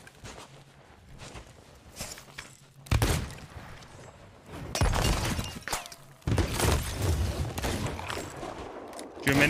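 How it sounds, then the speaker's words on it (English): In the video game Sea of Thieves, a 20-versus-2 fight brings bursts of gunfire from many guns, with dense cracking volleys and crashes in loud clusters amid scattered impacts and movement, voices faint. "Too many guns going off."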